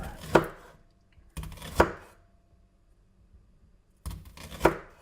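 A knife chops food on a cutting board in three separate bursts of sharp, close knocks, with silence between them and one brief spoken word.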